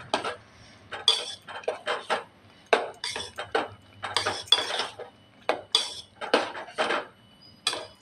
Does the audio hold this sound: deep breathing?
no